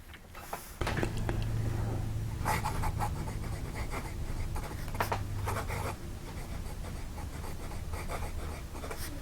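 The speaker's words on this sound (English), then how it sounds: "I think you can hear that nib on the paper." A Lingmo blue demonstrator fountain pen nib scratches across paper under light pressure, a close continuous scratchy texture with rhythmic stroke accents over a low steady hum, no voices.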